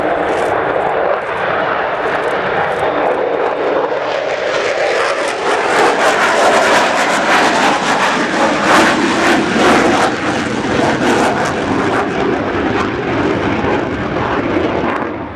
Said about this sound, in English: extraordinary sound of those 4 Rolls-Royce Bristol Olympus 202 two-sharp turbojet engines